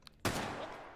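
A single sharp gunshot with a sustained ringing tail, fired at Sosigs in the VR shooter Hot Dogs, Horseshoes and Hand Grenades; close and loud, with no talking.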